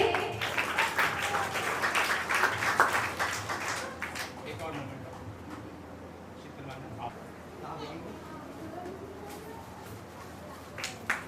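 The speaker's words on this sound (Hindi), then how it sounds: "एक जोरदार ताली फिर से।" Another round of clapping from an audience at a literary society's anniversary event. It is strong for the first few seconds, then fades into a quieter room with scattered murmurs and shuffling.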